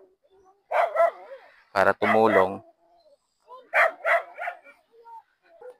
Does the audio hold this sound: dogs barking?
yes